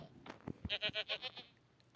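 Sheep or goat bleating in a run of five or six loud, wavering calls close by, preceded by a few short noises and trailing off into quiet.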